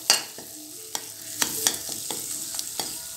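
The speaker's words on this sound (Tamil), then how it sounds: "வெல்லம் ஆட் பண்ணி ஒரு 1 minute இப்படி கலந்து விடுங்க." A spatula stirs jaggery into coriander thokku in a pan, making a series of sharp scraping strokes at an uneven rhythm over a faint, low sizzle. The sound is close and alone.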